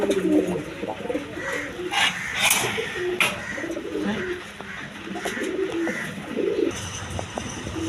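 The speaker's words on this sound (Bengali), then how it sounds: "আপনার দেশি রাজগোল্লা কবুতর আছে" Desi Raj gola pigeons coo repeatedly at close range, soft throaty calls overlapping amid other bird chirps and faint background noise.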